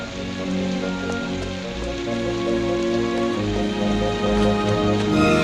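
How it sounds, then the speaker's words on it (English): Steady heavy rain pattering on surfaces in a film scene from Coming to America (1988), continuous and loud, with scattered drops standing out and no voices. "Oh, and it's gonna be in the rain"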